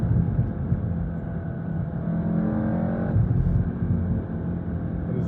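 A VW Golf R MK7.5 engine revs in a steady rumbling drone heard from inside the car, with a rise in pitch around the middle and faint burbling pops under a little talk.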